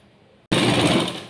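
A sewing machine stitches piping onto a blouse, starting abruptly after a quiet moment, then running as a loud, close, continuous mechanical whir.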